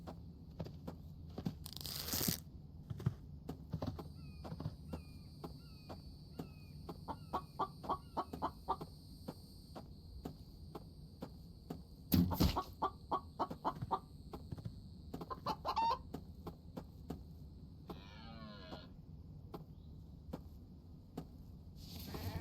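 Chickens in the survival video game The Infected cluck in quick repeated bursts, with sharp thumps and clicks between them over a quiet background.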